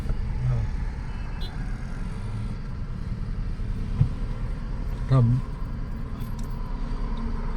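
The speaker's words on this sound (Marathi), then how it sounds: "गाड्या कंटिन्यू चालू राहतात." Steady rumble of road traffic rolling past on the Mumbai–Goa highway, with a brief horn-like tone partway through, continuous and fairly close.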